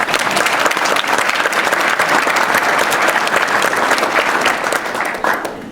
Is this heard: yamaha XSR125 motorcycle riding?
no